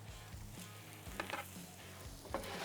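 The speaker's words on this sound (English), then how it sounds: "Oh, just listen to that sizzle." Quiet, steady sizzling of steak on a hot grill while reverse searing, a soft crackling hiss with occasional small pops, close by and without talk.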